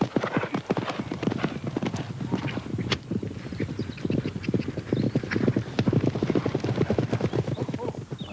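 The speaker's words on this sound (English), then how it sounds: "Once the horses are warmed up and going, he opens them out to a full-blooded gallop." Horses galloping at full speed, hooves pounding in a quick, uneven rhythm close by, with snorting breaths and a brief whinny-like call mixed into the drumming.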